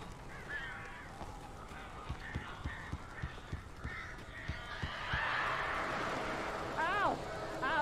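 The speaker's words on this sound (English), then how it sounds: "These birds are weird." Crows caw in a dark cabin scene from the video game Alan Wake, harsh repeated calls rising over a quiet ambient bed with soft thuds, a character's voice speaking nearby.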